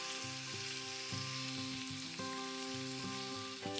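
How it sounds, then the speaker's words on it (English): Pancetta medallions fry in an oiled saucepan with a dense, continuous close sizzle that holds steady throughout, and a tonal melodic backdrop sits underneath. "going to pop my pancetta onto an oiled saucepan. Ooh, doesn't that sound wonderful?"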